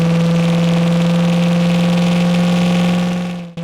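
A 1972 Ford Mustang convertible's 302 V8 with a C4 transmission runs at a steady, loud, even drone with a strong low hum, then stops abruptly at the end.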